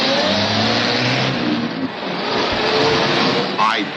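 A green and white bus engine revs hard and climbs as it speed-shifts into third gear, a loud, close roar with a rising whine near the end, staged as a radio ad effect with voices over it.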